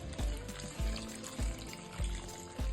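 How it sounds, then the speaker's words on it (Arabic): Water poured over meat in a pot while making Iraqi red meat tashreeb, a soft continuous splashing pour with faint periodic low thumps, close and quiet. "هسه راح نضيف المي، ما راح نخليه، بس نغطيه بالمي"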